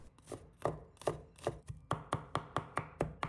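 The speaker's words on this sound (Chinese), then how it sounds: "然后再改刀切成蒜末。" A knife chops garlic into mince on a board, about a dozen crisp, close knocks that start loose and settle into a quicker, even rhythm.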